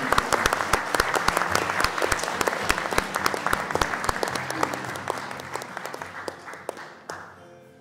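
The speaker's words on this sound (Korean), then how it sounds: "박수로 맞이해 주시기 바랍니다" An audience at a shared-growth forum applauds to welcome a speaker, a full round of clapping with sharp individual claps standing out, gradually fading before it stops.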